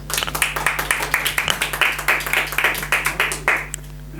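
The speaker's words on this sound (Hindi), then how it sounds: "एक बार जोरदार तालियां" A live audience claps in a quick, steady rhythm for about three and a half seconds, loud and close, then the clapping stops abruptly as a low hum continues underneath.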